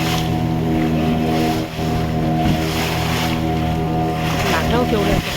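Sea waves slapping a motorboat near a river-sea confluence off Devbag island in Malvan, Sindhudurg, a loud steady engine drone under rushing wash and splashes, with wind buffeting throughout.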